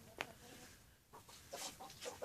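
Laying hens clucking in a backyard flock, soft and irregular with a sharper squawk early on, moderately near over quiet outdoor background.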